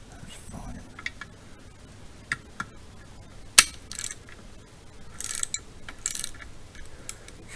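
A ratchet tightens bolts on a VW T3 CT engine during a rebuild, giving scattered short clicking bursts and a sharp metallic tick at mid-clip, fairly close and moderate in level.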